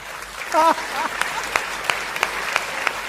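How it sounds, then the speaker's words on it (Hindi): Scattered audience applause at a Hindi comic poetry gathering (hasya kavi sammelan), with a short vocal whoop early on and then separate sharp claps spaced through the crowd, fairly quiet overall. "देख रहे हो आप तालियां माहेश्वरी समाज की"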